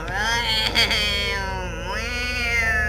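Cat in an SCP horror video game meowing in a long, drawn-out, whining call with rising and falling pitch, loud and close over a steady low hum.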